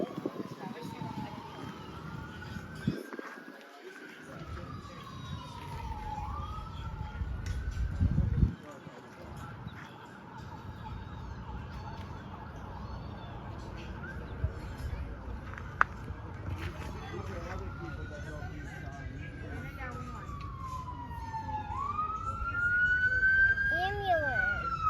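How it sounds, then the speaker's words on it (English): An ambulance siren wails in repeated rising and falling sweeps, moderately distant, in Florida during Hurricane Ian, with voices talking underneath. "What ambulance?"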